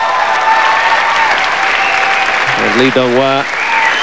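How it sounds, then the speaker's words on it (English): A small personal cheer squad applauds and cheers loudly for a Swiss bronze medalist gymnast at a world gymnastics championships, steady clapping under an announcer's voice. "seems to have his own personal cheer squad here"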